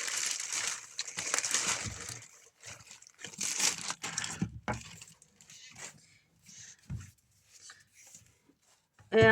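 Items being pulled from a plastic bag, irregular bursts of crinkling and rustling, close and stop-start with quiet gaps between handlings.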